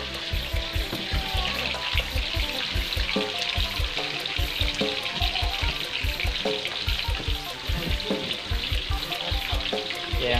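Snakehead fish fries in hot oil in a rustic home kitchen, a loud, steady crackling sizzle with dense popping bursts that carries on without pause, close to the pan, with no voices.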